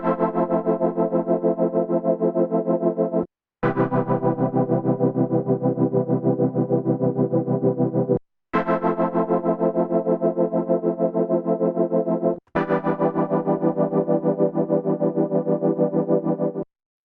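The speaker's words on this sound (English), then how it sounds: "I programmed this saw oscillator based tremolo pad." Yamaha Reface CS synth pad built on a saw oscillator with tremolo, playing four sustained, thick chords in a row with short gaps between them, loud and pulsing, with no voices.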